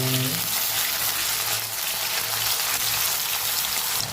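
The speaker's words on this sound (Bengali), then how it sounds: "পনিরগুলো আমি হালকা করে ভেজে নিচ্ছি" Paneer pieces fry lightly in hot oil in a kadai for matar paneer, a loud, dense crackling sizzle that holds steady throughout with no speech.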